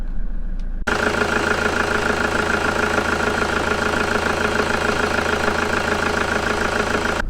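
A car engine cranks and catches after a short quiet moment, then settles into a steady, close, continuous idle with a constant low rumble, following a distilled-water top-up of its battery.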